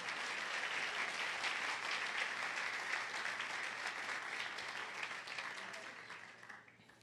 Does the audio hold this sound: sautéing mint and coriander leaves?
no